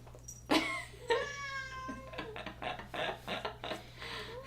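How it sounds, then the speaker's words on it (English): A cat meows several times close by, a series of clear, drawn-out cries in quick succession against a quiet indoor room. "the cat just jumped up and she's got her ass directly in my face and meowing"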